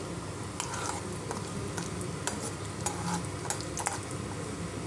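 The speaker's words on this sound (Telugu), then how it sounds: "బాదం ఫ్రై చేసుకుందాము. బాగా ఫ్రై చేసుకోవాలండి," Almonds fry in a pan for coconut laddu, cooked until golden. A soft, continuous sizzle runs throughout, with light clicks and scrapes as they are stirred.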